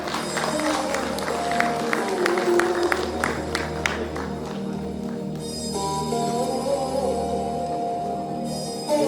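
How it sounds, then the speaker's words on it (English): An audience at an HR-EHS conference in Vadodara claps steadily for several seconds as a guest is welcomed to the stage, with crowd murmur and a few voices mixed in. "Let's give a round of applause to Surekha ma'am."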